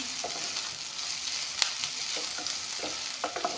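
Onion, carrot, ginger and garlic fry in refined oil with a continuous low sizzle, broken by occasional light clinks and scrapes of stirring, close and fairly quiet.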